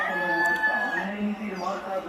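Chickens clucking and calling inside a newly built poultry shed joined onto an older one, a steady mix of fowl noises with a voice talking over them.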